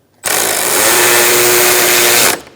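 A power tool tightens bolts on the AC condenser of a 2007-2017 Ford Expedition: one sustained, close, loud whirring run of about two seconds with a steady tone, starting and stopping abruptly, with no voices.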